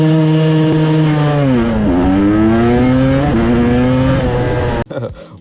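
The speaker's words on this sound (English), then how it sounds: "As I let the clutch out, the bike just wants to come up." A motorcycle engine at a drag launch, revving hard with a steady high-pitched drone, then pitch dipping and climbing again as the clutch is let out, loud and close, before the sound cuts off abruptly near the end.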